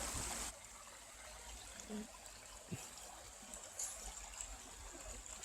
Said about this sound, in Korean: 물이 이렇게 쭉 흐르고